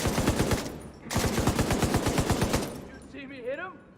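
Rapid bursts of light machine gun fire in The Division 2, dense rhythmic shots running in long strings with a short break, while a voice talks over the gunfire near the end.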